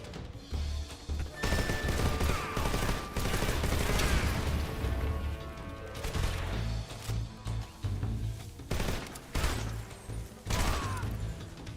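Gunfire in the Metal Gear Delta video game: dense bursts of automatic fire and scattered single shots, loud and continuous for most of the stretch, with heavy booms and mechanical clatter mixed in.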